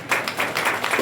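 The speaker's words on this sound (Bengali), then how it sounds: "আপনাদের জন্য হাততালি আরেকবার" Audience clapping at a cultural academy workshop in Bishnupur, a short burst of hand claps from a seated crowd in a hot hall, a few rhythmic swells heard alone without speech.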